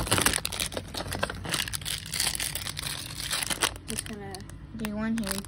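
Cardboard crinkles and tears up close as a door is opened on a 2023 Lego Harry Potter advent calendar, with a voice speaking briefly near the end.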